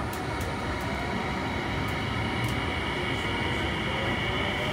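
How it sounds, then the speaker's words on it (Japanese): Inside a Tsukuba Express TX-2000 series train as it departs, a constant low rumble and rolling noise holds steady throughout, with no voices. "this train will depart."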